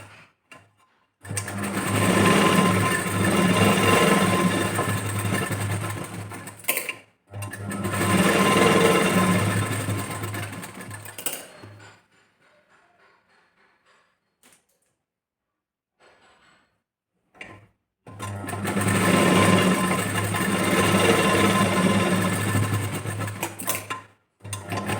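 Sewing machine stitching the front and back shoulder seam of a blouse, three long loud runs of steady motor whirring separated by quiet pauses with faint handling sounds.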